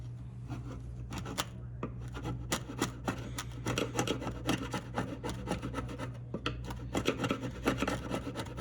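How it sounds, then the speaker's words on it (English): A dull flat-blade screwdriver scrapes squeezed-out glue from the wooden string nut slot of a stringed instrument, making rapid, close, rasping strokes in an uneven rhythm with no talk. "I found that a dull straight screwdriver works best for cleaning that out"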